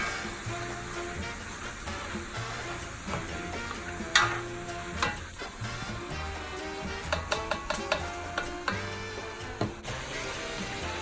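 Pork filling for Puerto Rican pasteles, with meat and bones, sizzles and is stirred in a pot, giving steady frying noise with scattered scraping and clinking of the spoon close by.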